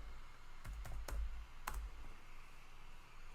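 A few quick, soft keystrokes on a computer keyboard while entering a new password during an Arch Linux install, clustered clicks followed by a quiet pause.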